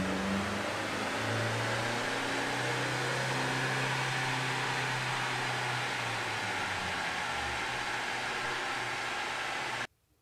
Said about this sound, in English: This is the dyno after run.